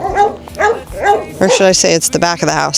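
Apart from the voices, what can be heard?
puppies barking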